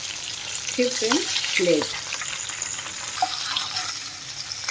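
Fish pieces fry in mustard oil in a pan, a loud, steady sizzle close by, with a brief spoken phrase heard over it.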